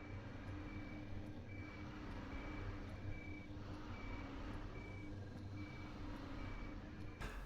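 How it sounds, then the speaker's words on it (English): Sliding door in the video game Beyond Good & Evil beeps as it closes, a faint, evenly spaced series of short electronic tones repeating over a steady low background hum. "We need to push a button to open a door, which triggers a beeping sound as it is closing."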